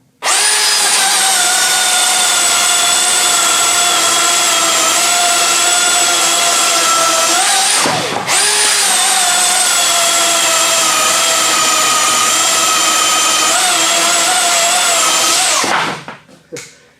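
A Milwaukee cordless chainsaw runs at high power through two long, loud cutting passes of about eight seconds each. Its steady high whine stays close and continuous, breaks briefly between the passes, then cuts off at the end.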